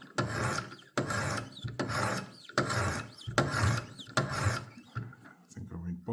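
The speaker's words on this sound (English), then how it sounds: "Now I'm actually sharpening the knife." A butter knife is drawn across the stones of a Wicked Edge WE60 sharpener in steady, close rasping strokes, about six even passes with short pauses between them, alone without speech.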